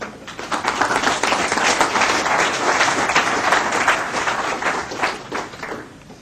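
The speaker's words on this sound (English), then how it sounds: "let's give him a round of applause as well" Sustained applause from a conference audience greeting a speaker, dense and steady clapping filling the room for about six seconds before tapering slightly at the end.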